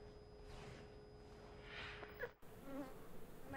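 Honey bees nesting inside the wall of a house produce a faint, steady insect buzzing that hums continuously, with a brief soft knock partway through.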